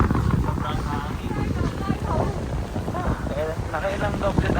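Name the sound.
strong cold wind at Ine fishing village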